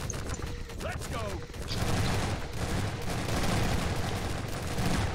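Rapid shotgun blasts pound in a chaotic firefight in the Lambda Wars game's Overrun survival mode, loud and dense with overlapping shots and mechanical clatter, while a player's voice briefly cuts in.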